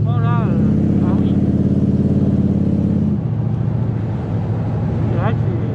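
A 1974 Corvette C3 Stingray with its 5.7-litre V8 idles and rumbles loudly and steadily nearby, a rev settling at about three seconds, while people talk over it.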